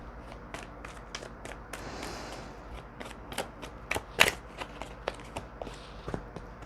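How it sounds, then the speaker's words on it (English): Playing cards are shuffled with a steady run of crisp flicks and taps, close by, with a louder riffle midway. "Gonna shuffle and we're gonna put a few down"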